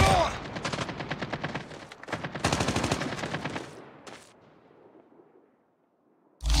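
Rapid bursts of automatic gunfire from Call of Duty Mobile crackle loudly in quick, dense volleys, pausing briefly before another stream of shots, then fading to near silence ahead of a sharp final thump.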